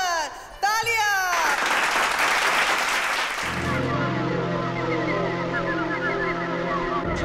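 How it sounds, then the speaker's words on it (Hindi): Audience applause greets a stage performance by Shantanu and Kunwar Amar on a TV show, a loud burst of clapping that soon gives way to music, with a voice briefly heard at the start. "तालियां।"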